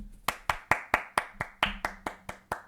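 Hand clapping, about ten sharp claps in a slightly slowing steady rhythm, close and distinct with no talk.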